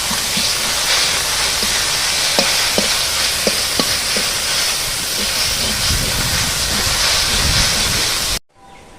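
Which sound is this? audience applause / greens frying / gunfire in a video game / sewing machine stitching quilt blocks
greens frying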